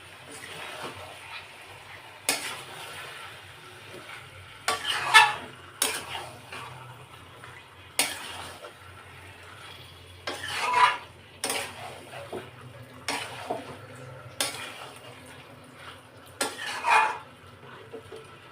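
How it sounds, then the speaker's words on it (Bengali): Chicken being stirred and fried in a pan, a spatula scraping and clanking against the metal at irregular intervals over a soft background sizzle, close and moderately loud, with no talking. "মাংসটা আমি কষছি।"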